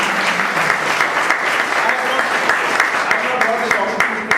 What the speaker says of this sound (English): Shall we give a round of applause for that?